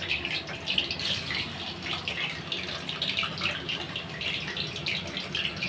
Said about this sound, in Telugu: ఇలా డీప్ ఫ్రై చేయాలి.